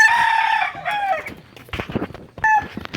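A rooster crows loudly nearby on a small farm, followed by scattered clucking and short calls from native chickens, then another crow begins at the end.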